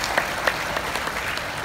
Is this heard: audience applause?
yes